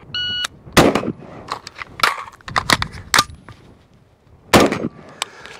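Rifle gunfire from a Sig SPEAR LT or Geissele Super Duty: several sharp, loud, close reports in an irregular sequence with gaps between shots, plus a few fainter metallic clanks; no talking.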